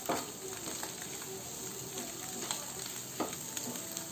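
Eggs coated in masala with pepper and green chilli powder fry in a pan, giving a steady close sizzle with scattered crackles and the occasional scrape of stirring.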